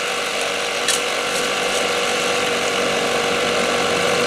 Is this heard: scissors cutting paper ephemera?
no